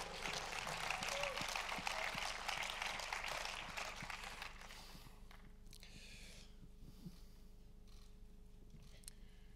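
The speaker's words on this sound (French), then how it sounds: "Et un dernier applaudissement" Applause rises from the audience at a Critics' Choice Award 2019 ceremony, a burst of crackling claps that gradually fades over about five seconds into quiet room ambience with a few faint stray claps.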